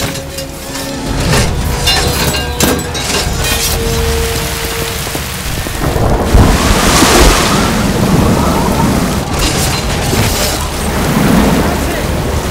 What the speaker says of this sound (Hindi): पानी का बहाव बहुत तेज है, कहीं आपके पैर ना उखाड़ दे।